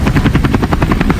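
A helicopter in flight, its rotor beating in a fast, even chop over a steady engine drone, close and loud with no voices.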